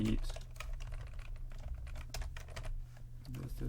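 Close, busy typing on a computer keyboard, with rapid irregular key clicks running the whole time over a steady low hum.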